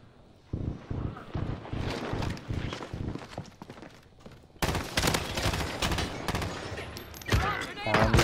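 Gunfire in Call of Duty Warzone Rebirth: quick rhythmic bursts of automatic weapon fire, fairly close, continuing in clusters with a louder barrage in the second half, mixed with game ambience and movement noise.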